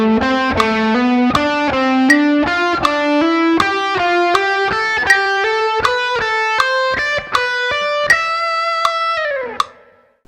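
Distorted electric guitar plays a steady Dorian-mode lick over a metronome ticking at 80 BPM, with sustained overdriven notes stepping upward in even rhythm, loud and close, ending with a final held note that cuts off.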